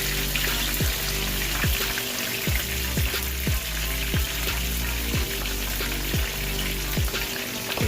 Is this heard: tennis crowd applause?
no